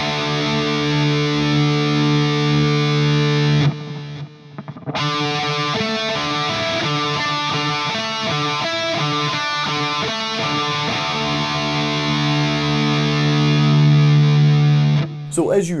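Distorted electric guitar playing the main riff of a song, a loud chugging, rhythmic riff with a brief pause early on, played close.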